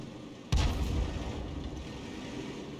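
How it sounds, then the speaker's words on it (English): A single heavy cannon blast from a 105 mm leFH18B2 artillery gun firing at tanks in a video game, a sudden booming report followed by a long rumbling decay, with no voices. "Fires around at the Matilda, misses."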